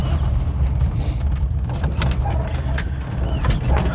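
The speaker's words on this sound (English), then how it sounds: "There's a car." A car goes by on a narrow small road, a steady rumbling engine and tire noise close by, with light rattles and clicks over the continuous drone.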